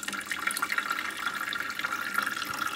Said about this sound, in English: slowly turn this water spigot feature.